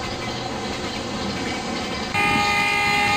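A loud, continuous container train rumbles past a station in Microsoft Train Simulator, with a steady wash of wheel and engine noise that brightens slightly toward the end.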